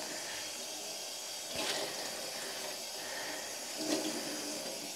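Running water rinsing fibre dyed with foraged walnut husks, a steady, fairly soft hiss and splash with a couple of brief louder gushes.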